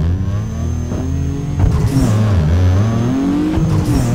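A Mitsubishi 3000GT engine in Need for Speed Underground 2 drones loudly and steadily, its pitch climbing and dipping as the revs rise and fall and gears shift, with no voices over it.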